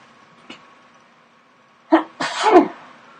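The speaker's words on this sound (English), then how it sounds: "excuse me, I've got to sneeze" A single sharp sneeze with a quick gasping intake beforehand, close and loud, after a brief small sound and near silence.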